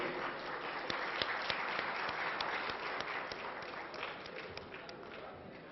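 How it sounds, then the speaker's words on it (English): Audience applause for a speaker at a corporate law conference in an auditorium, a dense even clapping of many hands with a few louder claps, steady for several seconds then easing slightly. "Ladies and gentlemen, a big round of applause for the speaker for his wonderful deliberation."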